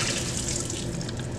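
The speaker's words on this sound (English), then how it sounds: "And all of this gets poured down the drain." Used film-developing chemical pours down a sink drain in a steady, close, continuous rushing splash with no pause and no voices.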